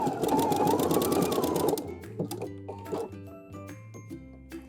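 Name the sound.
sewing machine stitching knit fabric with broken zigzag stitch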